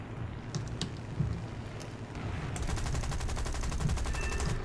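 An aircraft machine gun fires in the War Thunder video game, with scattered shots at first, then a sustained rapid burst of repeated cracks over a low engine drone.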